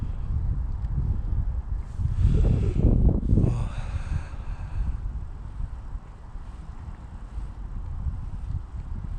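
Side wind gusting across an open autumn shoreline during spinning fishing for zander near waves, a steady low rumble of wind buffeting the microphone that swells into a heavier rush for a couple of seconds, then settles back.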